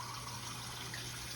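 Water pouring steadily into a pot of smothered country pork ribs headed for an Instant Pot, a constant close gushing rush with no pauses and no talk.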